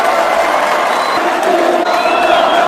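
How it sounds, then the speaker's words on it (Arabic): A large crowd cheers and shouts loudly and continuously, with whoops and raised voices blending into one roaring mass of sound. "والجمهور يتفاعل ويصيح"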